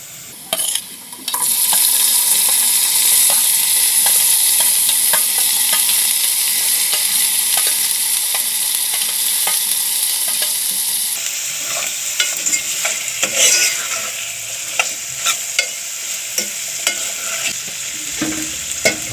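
Raw cashew nuts sizzle steadily in hot oil in a pan for a curry, a loud continuous frying hiss with scattered crackles and stirring scrapes, changing tone partway through.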